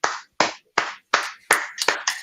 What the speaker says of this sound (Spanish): Da un aplauso a Sowap.